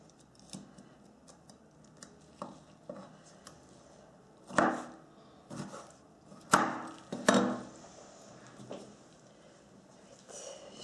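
Irregular knife chops on a cutting board while cutting vegetables to lay over trout, sparse at first, then several sharper, louder cuts close by, with quiet gaps between them.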